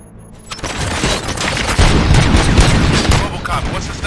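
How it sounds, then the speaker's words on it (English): Gunfire erupts in the RoboCop video game, a dense burst of booming shots and clatter that starts after a quiet moment and carries on loud and steady, with voices mixed into the din. "Gunshots? What's going on?"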